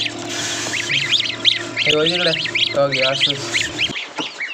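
Chicken chicks peep in quick, high, repeated chirps close by, while a person talks over them at moments.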